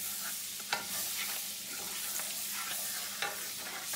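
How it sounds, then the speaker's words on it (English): Butter and crumbled sausage bits sizzle steadily in a frying pan while a utensil scrapes and stirs, with a few sharper clinks standing out from the continuous close frying hiss. "I'm gonna stir my butter, and I'm picking up all this little bit of bits and pieces of this sausage"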